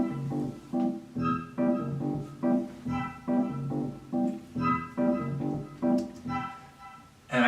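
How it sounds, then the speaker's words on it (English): A music score of glockenspiel and Wurlitzer electric keyboard run through an echo effect: a steady pulse of warm keyboard chords with bright chiming tones layered above, repeating in an even rhythm. "So that, plus the echoey thing, plus the Glockenspiel, sounds like this."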